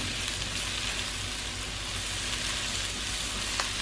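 Onions and tomatoes frying in a pan give a steady, dense sizzle that holds evenly throughout at close range, with only a faint click near the end and no voices.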